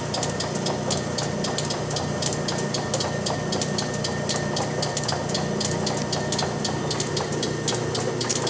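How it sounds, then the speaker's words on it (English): A South Bend 10-inch heavy lathe runs smoothly in a shop, its motor and drive making a steady, fairly loud hum with a fast repeating ticking rhythm throughout and no speech. "The machine runs rather smoothly and quiet compared to my other South Bend lathe."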